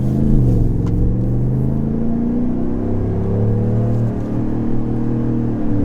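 A GM 6.6L gas pickup with a Borla S-Type exhaust accelerates hard from a stop to cruising speed, heard from inside the cab with windows up as a steady, deep rumbling drone.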